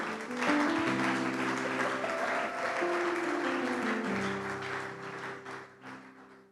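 A church congregation claps together in a steady, full round of applause lasting several seconds, with sustained organ or keyboard chords ringing underneath.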